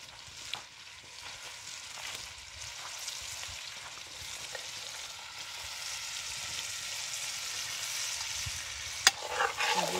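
Ingredients for a village-style chicken pulao with chicken pieces frying in a pot, a steady moderate sizzle with occasional stirring scrapes and a sharp clink near the end, no voices.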